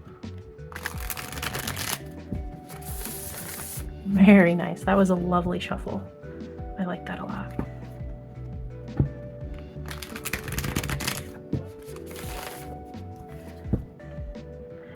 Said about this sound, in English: let's give it a shuffle here